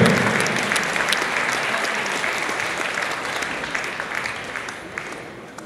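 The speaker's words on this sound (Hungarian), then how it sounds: "Tapsolókat elő!" An audience at a competition gala in Debrecen applauds in a dense, sustained round of clapping that slowly fades over several seconds.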